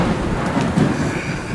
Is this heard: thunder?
yes